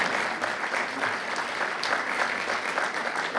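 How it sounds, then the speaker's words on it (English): A crowded audience at Edmonds' 2017 State of the City address claps in a steady, even wash of applause, moderately loud and continuous, with no speech over it. "Give yourself a round of applause"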